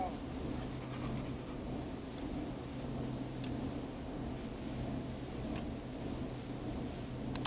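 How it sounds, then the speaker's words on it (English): In the video game Killer Frequency, a neighbor's dog barks at night in a quiet residential setting. The barking is faint and distant beneath a steady low hum, with a few sharp clicks scattered through it. "Is that a neighbor's dog? Yes, it is."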